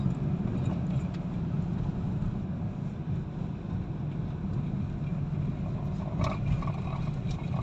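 Hyundai Accent car climbing a steep hill without a downshift, its engine a steady, loud low drone with road rumble throughout.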